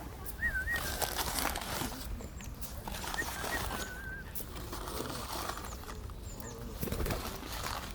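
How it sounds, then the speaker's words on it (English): Pigeons at an aviary pen with other birds nearby, soft coos and short chirps scattered over a steady outdoor bed of background noise, with occasional wing flutters, moderately quiet. "I love the pigeons there."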